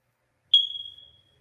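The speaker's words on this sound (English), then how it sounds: "can you put the noisemaker on just to make me feel a little bit satisfied? You know, the one that's like the smoke alarm thing." A single short, piercing electronic beep like a smoke alarm, played as a noisemaker sound effect, loud and alone, fading out within about half a second.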